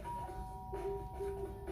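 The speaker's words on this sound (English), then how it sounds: "I pressed the doorbell." Doorbell in the Danganronpa video game chiming with steady tonal notes, a sustained two-tone ring over a soft game background, no talk.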